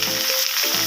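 Ginger, garlic and onion paste hitting hot oil with frying potatoes for a fish curry, a steady loud sizzle that dips briefly in the lows mid-way before surging back.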